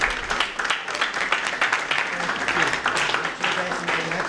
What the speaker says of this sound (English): big round of applause for all of our award recipients.